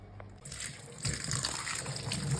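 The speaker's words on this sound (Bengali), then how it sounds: "মাশরুমগুলোকে ভালো করে পরিষ্কার করে ছোটো ছোটো করে কেটে ধুয়ে নিয়ে জলটা এখানে ঝরতে দিলাম" Tap water runs steadily while chopped mushrooms are rinsed for mushroom pakora, a close, continuous splashing gush that grows slightly fuller after a brief soft knock at the start.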